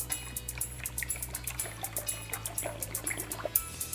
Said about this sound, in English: Now to this I'm just going to add some water.